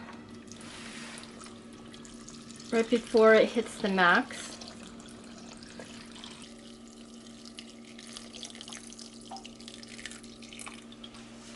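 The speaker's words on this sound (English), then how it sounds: "I fill up the water" Running water pours into an Instant Pot pressure cooker pot, with a short louder gush in the middle, while a person talks quietly over a steady background hum.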